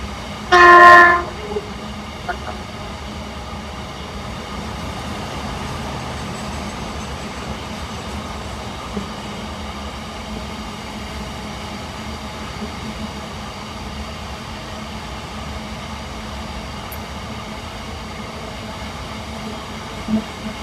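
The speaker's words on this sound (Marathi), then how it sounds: "या ठिकाणी जी आपली ट्रेन आहे ती आहे हडपसर ते नांदेड" At Hadapsar railway station, the Hadapsar to Nanded train sounds a short loud horn blast at the start, followed by a long stretch of low, steady rail and engine rumble with a few faint clanks.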